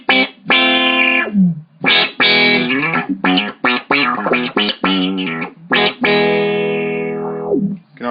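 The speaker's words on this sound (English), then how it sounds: "the Meatball, set for kind of a classic auto wah sound" Electric guitar through a Lovetone Meatball pedal set for a classic auto wah, with plucked notes and chords each swept by a vocal, quacking filter that opens and closes, sounding loud and close with no talk.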